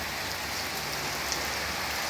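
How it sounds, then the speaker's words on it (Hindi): Steady, dense rain pours down outdoors in the Ranikhet hills, a constant even hiss with no pauses or voices. "ये बढ़िया बारिश लग गई है।"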